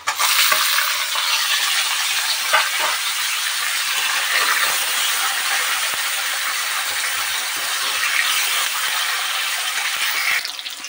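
Chopped tomato and green chilli hit browned onions in a pan for a Bengali Amuda fish curry, giving a steady, loud sizzle with occasional stirring scrapes and no talk.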